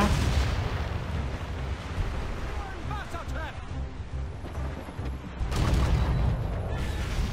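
Cannon fire aimed at a gunboat during a naval battle in Assassin's Creed Rogue, dense booming blasts filling the scene with a brief quieter lull midway, overlaid by game sounds and spoken commentary.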